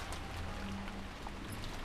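Rain falls steadily in a scene from the video game Umineko, a soft, even hiss of drops on a surface, quiet and continuous for a short stretch.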